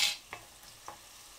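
A soft, steady sizzle of zucchini and carrots frying in olive oil with tomato paste, with two quick stirring scrapes close by.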